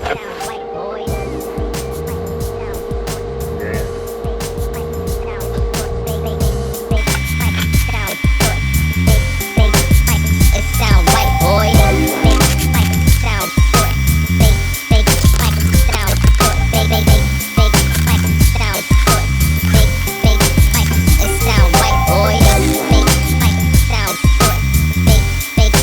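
A twin-turbo Squarebody truck engine fitted with new downpipes runs loud and close, a rough idle with rhythmic pulsing that grows louder and fuller after several seconds and keeps chugging steadily.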